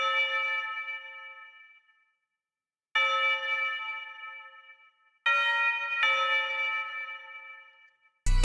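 A bright synthetic bell in an FL Studio trap beat rings out in three separate phrases of sustained, tonal strikes, each slowly decaying with gaps of silence between them, alone with no other instruments.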